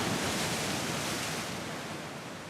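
Sea waves break and wash onto the shore in Guadeloupe, a steady broadband roar that stays loud and close throughout and fades slightly toward the end, with no voices.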